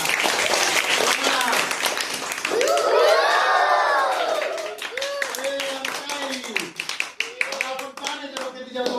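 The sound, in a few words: clapping for the magic trick game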